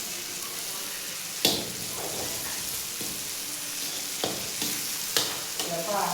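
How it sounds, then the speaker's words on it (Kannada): Poppy seeds fry in a pan with a steady close sizzle as a spoon stirs through them, giving several sharp scraping knocks, in a kitchen cooking for a village fair feast. "ಗಸಗಸೆ ಹಾಕ್ತಾಯಿದ್ದೀನಿ ನಾನು"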